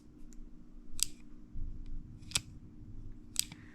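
A Shimano Stratic fishing reel's bail snaps open with sharp metallic clicks, three distinct crisp snaps about a second apart over quiet handling noise, close and clear.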